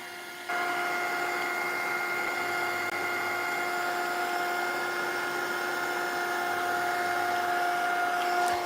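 A heat tool blows steadily to dry liquid acrylic paint on a mixed-media collage. The whirring, tonal drone switches on abruptly and holds at an even, loud level, with no voices.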